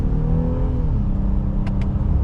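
A 2025 Honda Ridgeline's V6 engine pulls hard in sport mode, with a loud, close, rising growl that climbs steadily in pitch under acceleration, with no talking.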